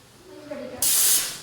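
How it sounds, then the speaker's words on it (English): An espresso machine's steam arm is purged: a brief faint gurgle, then a sudden bright hiss of steam bursting out close by and trailing off after about half a second. "Purge the steam arm."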